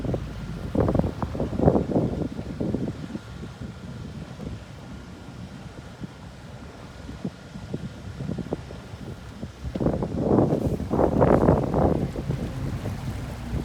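Wind buffets a microphone outdoors by a Cobalt 200 boat in heavy gusts, surging strongly at the start and again near the end, with quieter rumbling between.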